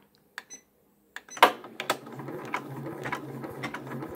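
A Janome MB4 embroidery machine starts up after a few isolated clicks and settles into steady, rapid mechanical stitching of applique in a hoop, close and moderately loud.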